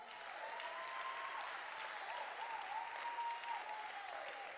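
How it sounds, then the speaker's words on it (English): Congregation clapping at a Christmas Eve church service, sustained applause heard faint and distant, with a sustained musical tone running underneath. "Clap for that."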